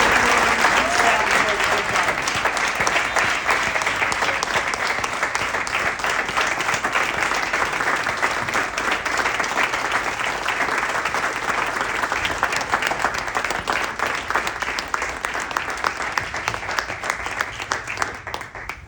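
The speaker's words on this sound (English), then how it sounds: "How about one more round of applause for all three of our" Sustained applause from an audience honoring three performers at the close of a program, loud and dense clapping with some crowd noise, steady for nearly twenty seconds and tapering slightly at the end.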